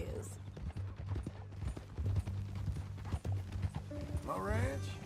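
Horse hooves in a video game clip-clop in an even walking rhythm, close by, under a voice, and a horse whinnies near the end.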